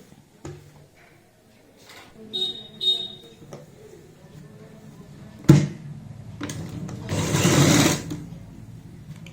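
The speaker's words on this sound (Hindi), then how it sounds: "अच्छे से सेट करते हुए यहाँ पे इसमें फिर से सिलाई लगाएंगे" A sewing machine stitches along a kurti neckline in short bursts, its motor whirring loudly and stopping between runs, with a louder sustained stretch near the end; a voice speaks faintly in the background.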